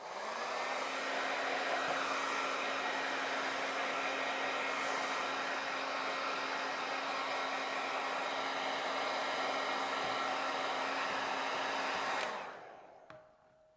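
Hair dryer blowing steadily on leather being dried after coffee ring removal, a loud continuous whir held for about twelve seconds before it switches off.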